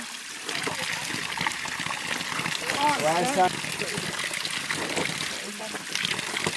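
Cold glacier water trickles and gushes steadily near the microphone, with people talking over the flow.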